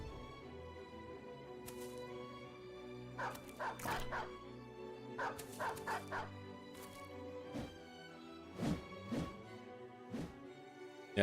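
Dogs barking in the medieval tactics game Battle Brothers: a run of sharp, repeated barks and yips in uneven bursts over a steady low in-game background hum, fairly faint overall.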